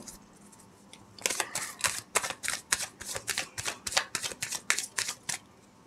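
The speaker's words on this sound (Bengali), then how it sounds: "আমি দুটো কার্ড নেব, ঠিক আছে, এবং দুটো সাইডকে ক্লিয়ার করব।" Tarot cards are handled and shuffled close up, giving a quick run of crisp flicking and riffling snaps after a brief quiet start.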